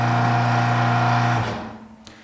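A wall-mounted pressure washer runs with a loud, steady motor drone and hum, then winds down to quiet over about a second. No one speaks.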